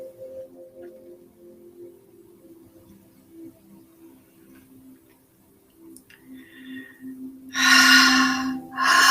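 During a guided breathwork exercise, quiet steady ambience gives way to two loud, close, rushing breaths near the end.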